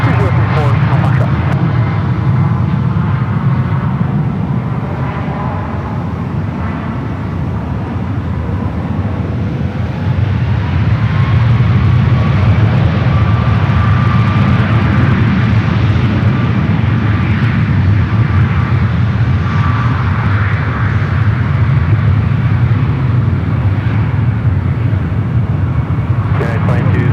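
An airliner taking off from runway 1 left at San Francisco airport: a loud, continuous jet engine roar that swells and holds for the whole span, with a distant whine, heard without talk.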